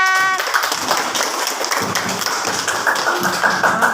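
Children clap together in a classroom, a dense patter of small hands that stays steady and close for the whole stretch, with a few sharper taps standing out.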